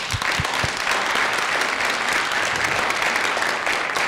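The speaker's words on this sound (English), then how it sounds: "give yourselves a round of applause." Sustained audience applause fills a public meeting in a high school, a dense, steady wash of many hands clapping at close range with no talking over it.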